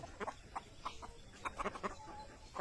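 Ten-month-old farm roosters on a rural property cluck and make short fowl calls in quick bursts, near and fairly loud, one after another.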